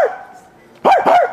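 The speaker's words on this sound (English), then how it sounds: "What's up with these Turkish dogs?" A street dog in Turkey gives two sharp, close barks in quick succession after a brief quiet stretch.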